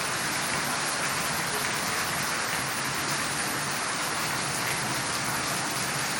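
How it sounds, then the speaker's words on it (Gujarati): Heavy monsoon downpour with wind, a dense, unbroken hiss of rain filling the whole stretch at even loudness. "જો કેટલો વરસાદ પડી રહ્યો ગઈ."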